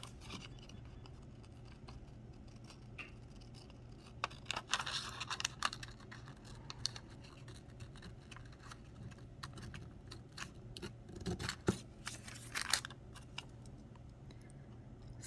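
Scissors cutting a paper shoe pattern for a 16-inch fashion doll, giving soft, close snips in small irregular clusters over a quiet background hum, with no talking.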